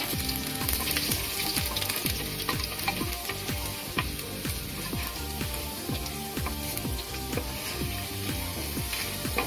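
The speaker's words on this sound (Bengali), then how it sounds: "প্রথমে দিয়ে দিলাম রসুন কুচি" Chopped garlic frying in hot oil in a pan: a continuous loud sizzle and crackle with quick popping spatters throughout, no voices.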